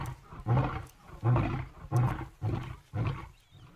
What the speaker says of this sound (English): With a roar that sounded like thunder,